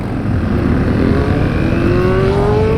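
Honda CRF250L dirt bikes pulling away together, engines revving upward in a rising whine over a rough, steady motor rumble, close and loud with no talking.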